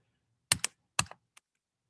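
A few quick keystrokes on a computer keyboard, close and crisp: two pairs of clicks followed by a single lighter tap, with silence between them.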